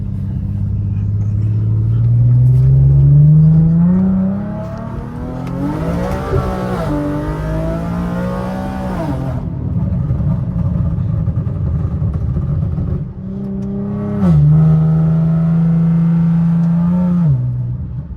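A rear-wheel-drive Infiniti G37 accelerates hard through a residential neighborhood, engine rising loudly through the revs in two strong pulls with a gear change between, heard from inside the car.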